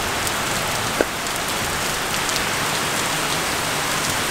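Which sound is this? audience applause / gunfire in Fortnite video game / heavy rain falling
heavy rain falling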